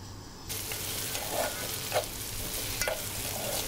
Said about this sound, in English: I'm also adding the chopped green chilies while I'm frying the onion.